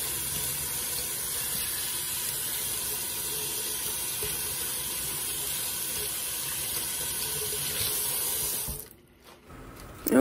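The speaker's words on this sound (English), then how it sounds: "First thing I'm gonna do is wash my hands." Running water from a kitchen tap pours steadily while hands are washed, a continuous close hiss and splash that lasts several seconds before cutting off abruptly near the end.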